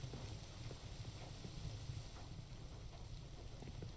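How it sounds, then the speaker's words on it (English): Rain falls in the survival video game Rust as a steady, faint, continuous patter, with scattered small drips and a low rumble in the background. "Oh, listen to the rain change tone."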